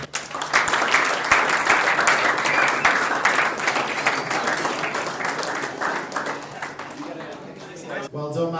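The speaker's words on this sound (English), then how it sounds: "Can we have a big round of applause to Max Braun?" Sustained crowd applause for an award winner at an awards night, a dense steady wash of many hands clapping that slowly thins toward the end, with voices mixed in underneath.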